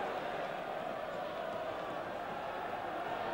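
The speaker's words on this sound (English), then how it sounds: "the crowd everywhere, you can hear the clapping for that effort by the Scots" A rugby stadium crowd at a 1988 Wales versus Scotland match, a broad distant wash of clapping and murmur blended into a steady, muffled roar with no distinct individual claps.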